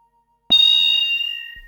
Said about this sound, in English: Listen to the alias in there.